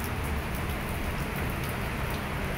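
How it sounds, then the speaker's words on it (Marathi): Steady, even rain falls on flowering plants on a balcony, a soft, constant patter with no talking. "फुलाच्या झाडाला पण पाणी पडतंय मस्त"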